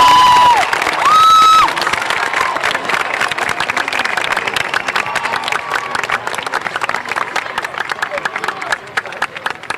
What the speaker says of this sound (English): Can I please have another round of applause for the class of 2026?